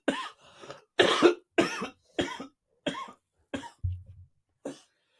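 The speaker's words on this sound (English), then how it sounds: "When it make you still cough after you're done smoking it." Several dry coughs from a person after smoking homegrown cannabis, six or seven bursts spaced about a second apart, fairly close and clear, with a short low throat sound near the end.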